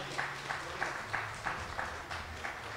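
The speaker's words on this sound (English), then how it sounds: "Give them a round of applause, everybody" A church congregation claps faintly at a morning service, soft repeated clap bursts in a loose steady beat, distant and low in level.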